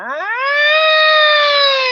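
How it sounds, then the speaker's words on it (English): A loud, steady rising-then-held wail like an alarm siren, sounding alone and close for about two seconds. "That shit sounds like a loud siren when there's a nuke about to drop."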